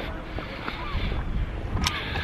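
Gusty wind buffets the microphone in St Andrews in February with a continuous low rumble and roar, broken by a brief sharp crackle near the end.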